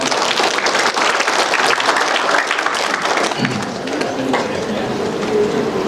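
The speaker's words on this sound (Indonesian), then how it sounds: "Kita berikan tepuk tangan untuk Pak Rektor." Loud, sustained clapping from a large crowd at a university open senate session, dense and steady throughout with a faint murmur of voices underneath.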